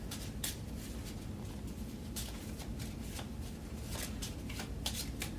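Cards from the Pandemic board game are shuffled close up, with a quiet run of riffling and soft papery snaps repeating in quick bursts, no talking over them.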